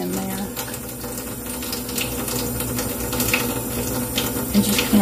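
Tap water runs steadily while an acrylic stamping block is washed by hand with a little mild soap, a continuous close splashing flow with faint rattles and clicks throughout.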